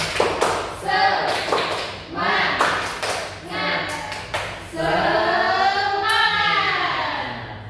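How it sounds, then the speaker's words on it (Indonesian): Students in a classroom microteaching lesson perform a rhythmic clapping routine, sharp claps in short patterned bursts alternating with loud group chanting, close and lively throughout. "Tepuk semangat."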